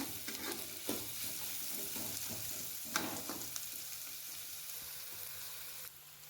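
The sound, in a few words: stirring frying chicken masala until golden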